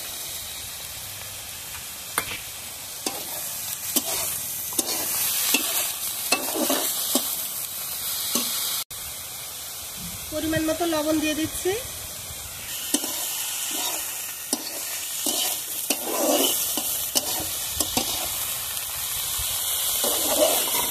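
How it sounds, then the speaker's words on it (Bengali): Mustard greens frying with onion and garlic in a pan give a steady sizzling hiss, broken by repeated scraping stir strokes. A voice speaks briefly over the cooking. "সরিষা শাকটা ভাজা হয়ে গেছে, এখন নামিয়ে নেব।"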